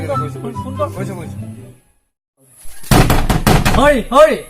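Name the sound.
knocking on a door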